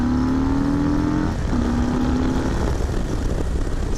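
A 2020 Harley-Davidson Low Rider S motorcycle pulls away after braking, a steady loud engine drone with a falling then rising tone and wind rush, close and continuous with no talking.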